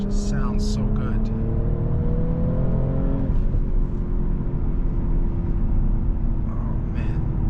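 An Audi S5 Sportback engine revs and hums steadily, its pitch rising and then settling into a smooth, loud drone with brief higher whines on top.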